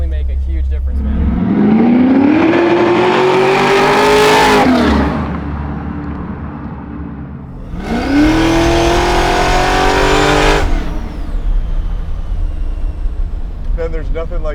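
A 750 hp supercharged Chevy Nova pro-touring muscle car accelerates hard twice, engine and supercharger whine climbing in pitch through each loud pull before easing off, heard from inside the car with people talking.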